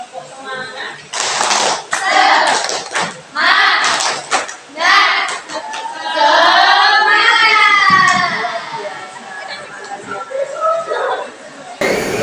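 A classroom of students performs a rhythmic clapping cheer, with bursts of patterned hand claps mixed with children's chanting voices and chatter, loud and close in a lively room.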